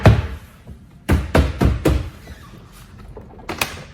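A Porsche door trim panel is pushed and slid upward during removal, giving a close series of sharp plastic clunks and knocks, with quieter rattling between them.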